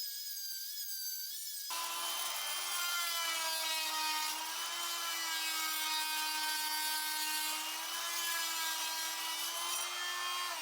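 Mortar is scraped off flooring in a continuous, close, gritty rasping scrape with a strong tonal ring, running steadily for about nine seconds after a brief quieter start.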